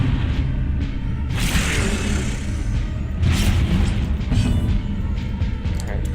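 Gunfire and impact bursts in Darkest Dungeon combat, sharp crashes at intervals over a dense, rumbling battle backdrop.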